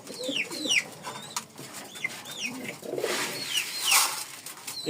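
Caged pigeons coo repeatedly, several soft rising-and-falling calls overlapping nearby, with a faint background hum and no talking.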